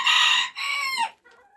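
A white rooster crows loudly and close by, a drawn-out call that breaks off, followed by a softer cluck.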